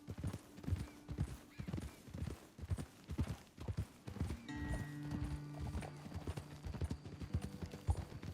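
In Red Dead Redemption 2, horse hooves clip-clop steadily throughout, several horses moving at a walk, with a drawn-out whinny-like tone rising partway through.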